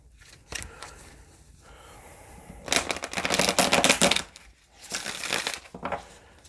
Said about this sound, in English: I need to shuffle one more time.